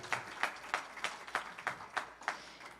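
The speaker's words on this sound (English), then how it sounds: "while we're clapping" Sparse applause from a small audience after a talk, about eight distinct claps at a steady rhythm, moderately faint and alone with no voices.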